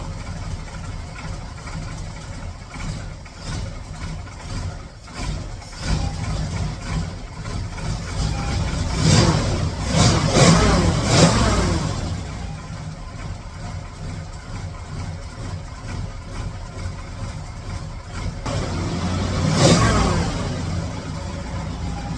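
A 1935 Ford flathead engine idles roughly and runs close by, swelling twice into longer revs before it settles back to a steady, slightly uneven idle, with no talk over it.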